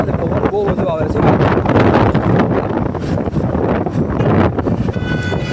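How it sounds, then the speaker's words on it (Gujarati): Strong outdoor wind buffeting a microphone, loud continuous rumbling gusts that swell and dip without pause, with a voice talking faintly beneath. "પવન બહુ બધું આવે છે"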